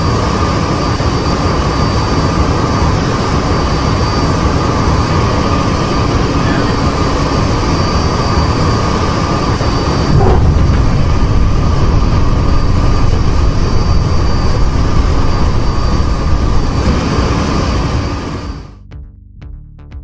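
A large passenger plane comes in to land at an airport, its engines giving a loud, steady roar that swells partway through and then fades suddenly near the end.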